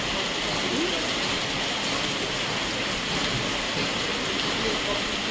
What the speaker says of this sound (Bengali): এরকম মুষলধারে বৃষ্টি চলছে।